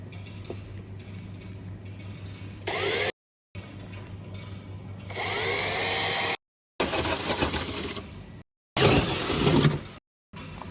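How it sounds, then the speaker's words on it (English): A small pilot hole is drilled through a carbon fibre bonnet for an Evo, with a power drill whining in several separate bursts broken by short silences and a steady background hum. "I'm going to put a small hole through it first, and as a pilot hole"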